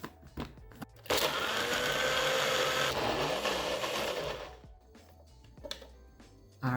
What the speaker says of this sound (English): Put the lid on this, you guys, and then we are going to blend.